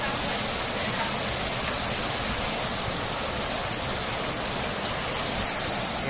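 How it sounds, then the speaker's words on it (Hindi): Water of the Neelam River tumbling down a waterfall in Pakistan, a loud, steady broadband roar that continues unbroken throughout, heard close by. "ये देखें इधर से पानी जा रहा है वो उधर जाकर नीचे गिर रहा है।"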